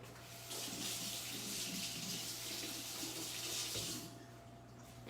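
A sink tap runs steadily in a home kitchen for about three seconds while something is rinsed under the stream, then shuts off, leaving quiet background hum.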